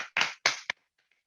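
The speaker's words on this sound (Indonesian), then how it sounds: "Tepuk tangan untuk Pak Kris dan Bu Novi" A few loud bursts of clapping in honour of two leaders, Pak Kris and Bu Novi, at a Faith Over Fear business gathering, three short surges with a gap between them and then fading to near silence.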